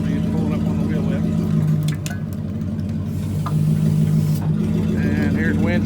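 A tow truck wrecker's hydraulic boom raises and pulls up on the wheel lift, with a steady mid-pitched engine and hydraulic drone, a brief dip and surge in load, and scattered metallic creaks. Someone talks over it.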